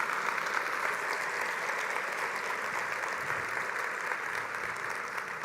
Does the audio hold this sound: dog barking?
no